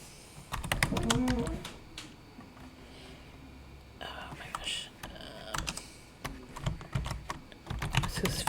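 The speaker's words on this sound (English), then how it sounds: "to create a new email, there, and you just type in whatever you want to type" Someone types an email on a computer keyboard, a close, uneven patter of key clicks in short bursts and brief pauses, with faint breathy voice sounds here and there.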